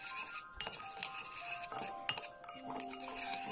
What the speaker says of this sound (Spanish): Lo mezclamos bien.